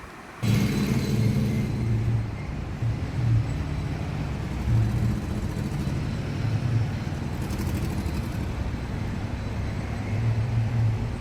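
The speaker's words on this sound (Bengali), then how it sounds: "এখন চালিয়ে আরাম পাচ্ছি বাইক, কেননা প্রচণ্ড গরম ছিল।" A motorbike cruising along an expressway in hot weather gives a steady, loud engine and wind rumble that runs unbroken from start to finish, with no talking.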